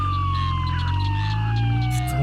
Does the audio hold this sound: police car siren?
yes